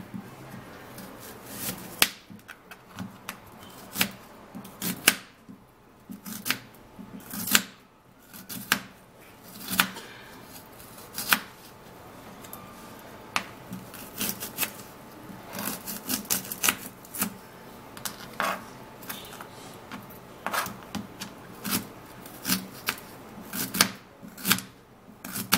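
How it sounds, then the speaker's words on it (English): An onion is chopped on a board with sharp, irregular knife strikes, close and distinct, repeating steadily without talk. "I'm going to be preparing and cutting this onion"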